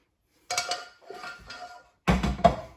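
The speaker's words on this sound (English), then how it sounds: "Use a spatula just to get the last of it out." A spatula scrapes a rhubarb mixture out of a bowl into a baking dish in a home kitchen, giving a few short scraping and knocking bursts with brief pauses between them.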